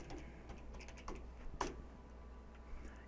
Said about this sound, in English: Now we just simply type Java negative version.